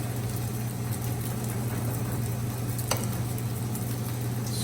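Fried rice sizzles and crackles continuously in a hot pan as it is stirred, a loud, even hiss close by with a few sharper scraping ticks.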